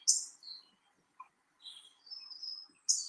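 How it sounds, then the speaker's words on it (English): A bird in a tree outdoors gives a few short, high chirps and thin whistled calls in scattered bursts, clear against quiet. "Where is this darn bird that was in the tree this morning?"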